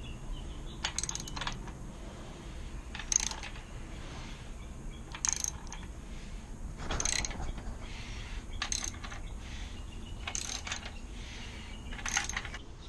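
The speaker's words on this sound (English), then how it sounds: "Got my pulley bolt in temporarily just to check, make sure that everything spins freely." An engine's crankshaft is turned by hand at the pulley bolt during a turbo LS-VTEC build with new crank, pistons and rods fitted, bringing a series of sharp ratcheting clicks in short bursts over a quiet background.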